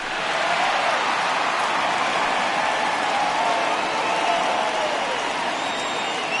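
A home crowd at a simulated Brewers-at-Mets baseball game in MLB The Show 20 gives a departing pitcher a steady, loud, broadband ovation of cheering and applause that holds throughout.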